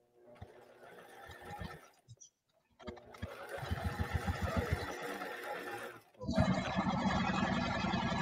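Sewing machine stitching a curved fabric bag case, steady motor whir in several runs separated by short pauses, close and fairly loud, with a voice talking between runs.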